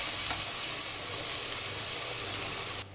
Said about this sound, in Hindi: थोड़ी देर फ्राई करेंगे ताकि टमाटर जो है वो सॉफ्ट हो जाए